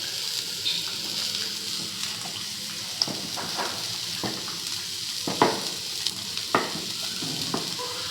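Rava dosa topped with onions, ginger and green chillies cooking on a pan, a constant hiss of frying with occasional scraping clicks and light knocks of a utensil, close and moderate in level.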